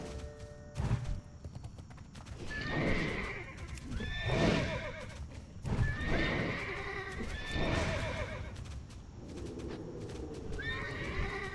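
A horse in the World of Warcraft video game gallops with steady clip-clop hoofbeats while loud neighs and whinnies recur every couple of seconds over a busy background.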